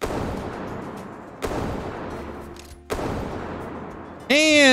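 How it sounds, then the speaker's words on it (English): Rifle shots are fired at a Brachio in a prehistoric dinosaur hunting video game, three loud, sharp booms spaced over a few seconds, each decaying into a long echo, followed by a brief ringing tone. "And just like that, five shots and it's down."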